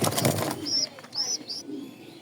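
Soft racing pigeon coos, three short hums repeating close by, following a burst of noisy handling at the start.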